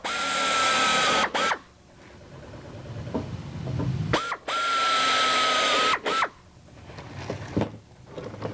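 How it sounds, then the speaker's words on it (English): Drilling through aluminum skin on a Van's RV-6 empennage, with a power drill whining loudly in two long bursts and a few short ones, separated by quieter clicks and handling noise. "we're just going to drill out and up until we get all the way to the ends"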